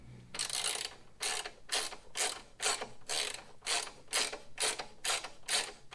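A ratchet clicks in repeated bursts, about a dozen quick strokes close up, tightening bolts on Santoro Fabworx bag guards being installed on a Harley-Davidson motorcycle.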